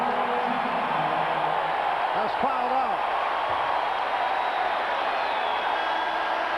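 Crowd at a 1993 Suns vs Magic NBA game rises in a steady roar as Shaquille O'Neal fouls out, a continuous wall of arena noise under a play-by-play announcer's voice, with a few squeaks and bounces beneath.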